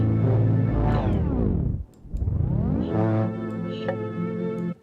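A vintage soul boom bap sample is resampled with messed-up headroom, giving a dirty, tape-worn character. Loud harmonic tones dive sharply down in pitch, cut out briefly, then sweep back up and sustain, with no voices.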